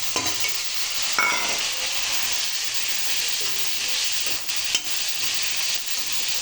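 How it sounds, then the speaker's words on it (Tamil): Tomatoes and salt sauté in ginger-garlic masala, giving a steady close sizzle and hiss, with a few scraping stirs of the spoon through the pan. "இப்போ தக்காளி நல்லா வதங்குது"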